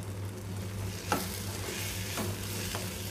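Tamarind fries in a pan while being stirred, a constant close sizzle with a low hum underneath and three distinct scraping strokes of the spatula.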